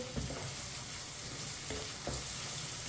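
Crushed garlic frying in a pan, a steady close sizzle with a few soft scrapes as a spoon stirs it through the oil.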